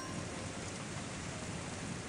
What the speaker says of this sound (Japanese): 雨だ。